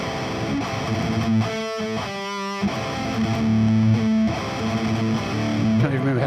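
A heavily distorted metal electric guitar runs through the Overloud TH-U amp simulator, playing loud chugging riffs with sustained notes and a brief pause in the middle.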